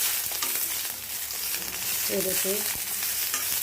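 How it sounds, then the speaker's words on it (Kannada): Capsicum sizzles and fries in hot oil in a pan, a steady bright hiss with light stirring clinks, while a person briefly speaks. "ಸ್ವಲ್ಪ ಫ್ರೈ ಮಾಡ್ಕೊಬೇಕು ಅಷ್ಟೇ"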